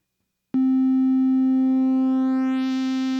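A steady synthesizer triangle-wave tone from a Roland Aira oscillator starts abruptly and holds, its brightness sweeping upward near the end as the color knob turns and a filter-like shimmer rises through the harmonics.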